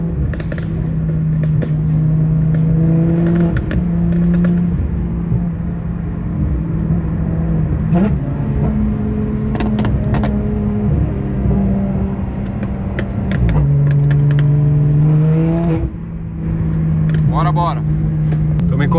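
An Audi R8 revs and pops its exhaust in a street cruise alongside a Porsche GT3 RS in Miami, a steady loud engine drone with pitch rises and sharp crackles, while people talk over it.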